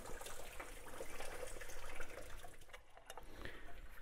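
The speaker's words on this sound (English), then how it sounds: "Drain all that water out into your pan." Coolant water draining from a Jeep Grand Cherokee WJ 4.7L engine into a drain pan, a steady close trickle and splash running without pause through the whole stretch, with no voices.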